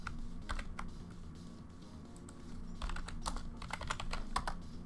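Loud computer keyboard typing during a tabletop Dungeons & Dragons 5e session, with rapid, close clicking keystrokes arriving in uneven bursts over a steady low background hum and no talking.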